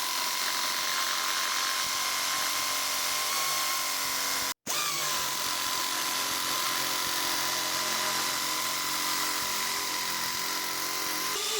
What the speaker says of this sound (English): For this, I will use this nibbler. It throws metal chips